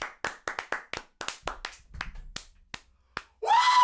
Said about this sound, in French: Applaudissements Oui. pour Lucas, s'il vous plaît